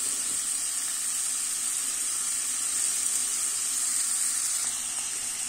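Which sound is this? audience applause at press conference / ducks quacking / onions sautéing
onions sautéing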